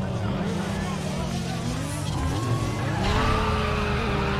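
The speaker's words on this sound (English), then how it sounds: "I want to do some cool drifts." Nissan 240SX drifting in the video game Need for Speed Underground 2, its engine droning steadily under long, wavering tire squeals and skids, with a voice talking over the racing.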